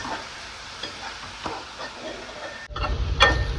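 Salted ingredients frying in a pan toward a golden colour, with soft stirring scrapes over a faint sizzle that swells into a louder burst of frying and a couple of sharp clatters near the end.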